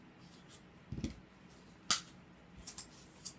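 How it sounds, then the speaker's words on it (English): A few short, sharp scratches and clicks of closed scissor blades scraping inside a tight hole in a toy, spaced irregularly with quiet pauses between them. "So you're going to stick your scissors closed down in there."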